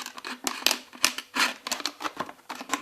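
Scissors or a blade cut all the way round a plastic bottle, producing a close series of sharp crunchy snips and crackles in an irregular rhythm, with no voices.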